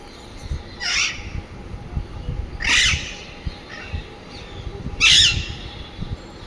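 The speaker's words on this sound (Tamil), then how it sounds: "பாருங்கள் எவ்வளோ கிளின்னு நீங்களே." A flock of parrots calls outdoors with three harsh, loud squawks spaced a couple of seconds apart over a low, steady background rumble.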